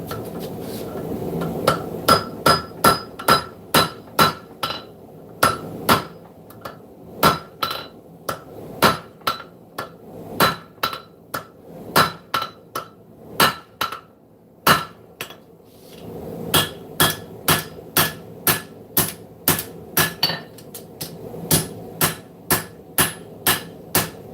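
Hammer striking steel on the horn of an anvil at a hot forge while shaping a blade's finger choil area, a long run of sharp ringing blows in quick, uneven bursts with brief pauses between sets, close and loud.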